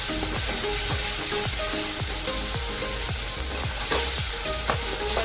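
Masala spice paste fries in oil as it is stirred, a constant sizzle broken by a regular series of scraping strokes against the pan.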